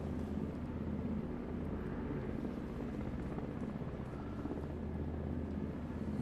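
A helicopter in the video game Hide & Hold Out drones as a steady, low rumbling rotor hum, constant and fairly faint, with no voices over it.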